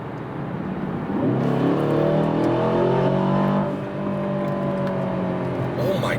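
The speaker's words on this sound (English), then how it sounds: "so you can hear how loud this car is when you pull, especially when you try to overtake a car" A 2023 Aston Martin DBX 707 SUV accelerates hard while overtaking, a loud, rising engine roar heard from inside the cabin that swells over a few seconds and then eases back to road noise.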